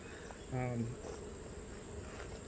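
A single Italian honeybee drones close by at an open Langstroth hive on a hot day, its buzz rising and fading over a steady high insect whine and faint background hum.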